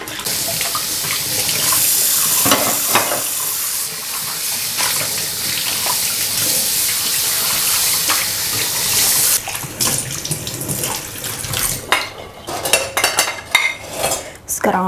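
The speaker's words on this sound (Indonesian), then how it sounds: "Dan ini aku nyuci piring yang bekas semalam ya." Dishes left soaking overnight, including a rice container, are washed under a running kitchen tap. A steady hiss of water runs throughout with clinks of plates and cutlery, then the flow stops and scattered clatters follow.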